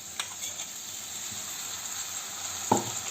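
Masala loosened with water heats gently in a pan for a yam thokku, giving a steady low sizzle and bubbling hiss with a couple of soft stirring scrapes near the end.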